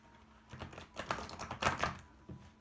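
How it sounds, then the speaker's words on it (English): A tarot card deck is shuffled by hand in crisp, papery riffling bursts of cards flicking together, close and fairly quiet, with no speech. "I'm gonna shuffle one more time"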